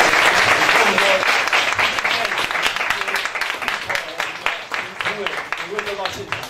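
An audience at a Rotaract club gathering applauds loudly, a dense burst of clapping that starts full and gradually thins and softens over several seconds.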